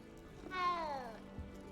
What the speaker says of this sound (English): Oh, another cat. Hello, cat.